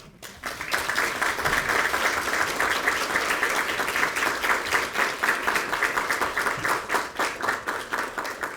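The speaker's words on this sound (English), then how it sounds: "So why don't you give in a round of big applause again?" An audience applauds after a special lecture by the President of Costa Rica, with sustained, fairly even clapping that starts abruptly and carries on for several seconds with little talk.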